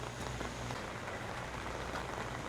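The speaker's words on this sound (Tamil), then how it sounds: "இப்போ காலையில் மறுபடியும் மழை பெய்ய ஆரம்பிச்சிச்சுங்க." Steady rain pours down beside the sea in Sri Lanka on a morning, a dense continuous hiss and patter with no voices.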